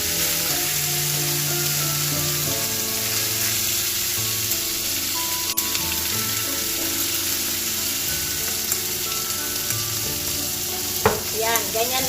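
Chicken sisig sizzles and fries steadily on a hot sizzling plate, with butter added and the meat being stirred: a bright continuous crackle close by, with a few scraping clinks near the end.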